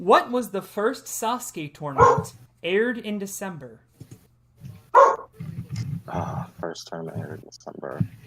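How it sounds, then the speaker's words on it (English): A household dog barks at random during a live game-show quiz broadcast, the short barks breaking in between and under a host's clear, close questions. "Excuse my dog for randomly barking."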